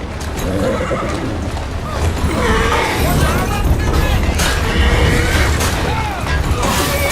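A horse in the video game Assassin's Creed Syndicate whinnies loudly and repeatedly over clopping hooves and mechanical clatter, with talking running underneath throughout.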